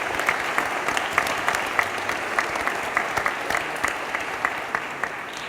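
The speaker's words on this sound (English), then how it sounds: "Please give them a big round of applause." An audience at a Castletown Geoghegan CCÉ 40th anniversary concert claps for the Castletown Geoghegan session group, a dense, steady round of applause filling the hall without a break.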